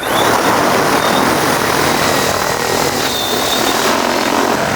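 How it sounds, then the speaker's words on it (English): An agricultural spray drone flies overhead, its rotors giving a loud, steady, dense buzzing roar that holds without a break for the whole stretch. "Okay, we are now up in the air. We are now flying the drone."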